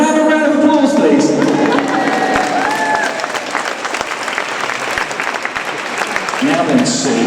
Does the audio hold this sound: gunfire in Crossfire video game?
no